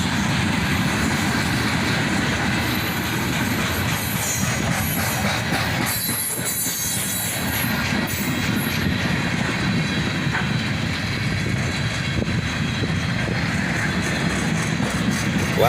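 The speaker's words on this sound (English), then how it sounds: "An ES44ACH and an ET44AH lead this southbound manifest train." A southbound manifest freight train led by ES44ACH and ET44AH locomotives rolls past steadily and loudly, with a dense rumble of railcars, rattling wheels and occasional squeal running through the whole stretch.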